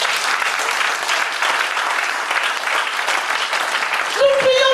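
A church congregation applauds continuously, a dense close clapping that runs steadily throughout, with voices of the crowd mixed in and a brief tonal sound near the end.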